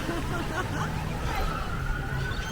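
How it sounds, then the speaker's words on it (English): A faint siren wails somewhere far off at Clearwater Beach before a hurricane, its rising and falling tone barely above a constant wash of wind and outdoor noise. "there's a siren out there somewhere"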